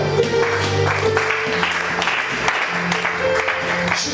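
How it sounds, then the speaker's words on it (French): A church congregation claps together during a prophet's sermon, a steady, dense wash of applause that runs throughout with sustained tones beneath it. "Acclamez chacun."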